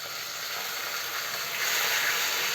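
Whole cumin and cardamom fry in hot oil in a pot for jeera rice, giving a steady, close sizzling hiss that holds evenly and swells slightly toward the end, with no voices.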